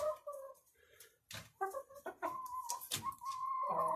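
Several mixed-breed chickens at an organic village farmhouse cluck and squawk in short bursts, fairly close, with a few louder, longer calls toward the end.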